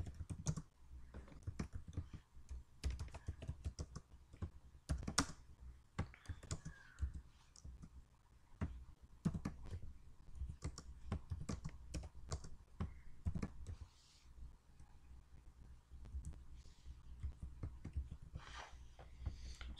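A computer keyboard is typed on while entering C code in an online compiler: quiet, irregular runs of close clicking keystrokes with brief pauses, continuing for about twenty seconds without speech.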